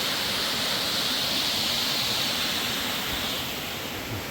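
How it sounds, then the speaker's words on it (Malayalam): A forest waterfall at Amarad near Kattippara, Kozhikode, with water rushing down in a dense, steady roar that fills the scene without pause and eases slightly toward the end. "മുകളിൽ നിന്നൊക്കെ ഇങ്ങനെ വെള്ളം ഇങ്ങനെ വന്നോടിക്കുന്നുണ്ട്"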